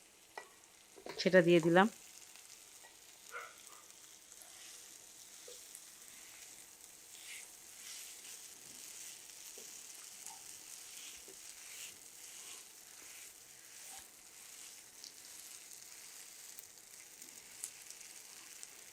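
Two medium potatoes, thinly grated, fry quietly in a pan with a soft, crackling sizzle that runs on steadily after a brief spoken phrase near the start.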